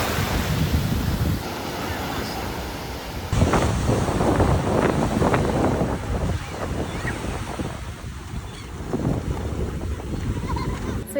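Ocean waves washing onto the beach at Jimbaran Bay, Bali, a steady loud surf roar with heavy wind buffeting the microphone, swelling louder partway through.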